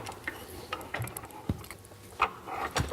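A restored pump from the World War One or Two era is worked by hand after cleaning and reassembly, giving a few scattered mechanical clicks and ratchet-like clunks at close range against a quiet background.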